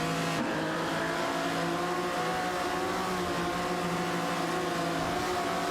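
Racing engines from AI-driven cars in a video game race, including a Shelby GT 569 and a Ferrari 250 GT Berlinetta, drone steadily with layered engine tones throughout, loud and continuous with no talk.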